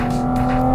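A Porsche Cayman GT4 RS with Weissach pack and 7-speed PDK sings a loud, sustained high-pitched engine note, a steady bright tone holding through the brief moment with slight wavering.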